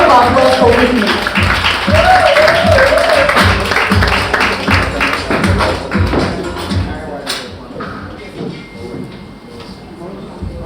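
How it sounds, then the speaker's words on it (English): Audience applause welcoming Whitney Baafi onto the stage at a celebrity event with Philipa Baafi, a dense sustained clapping with chatter that gradually thins and fades toward the end. "Please, a round of applause for Whitney."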